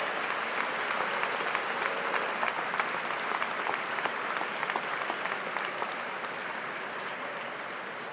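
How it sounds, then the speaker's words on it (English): Dense, steady applause from a large crowd of graduates at a fall commencement ceremony for baccalaureate and associate degrees, sustained and even throughout with no voices standing out. "give a huge round of applause to your families and your friends"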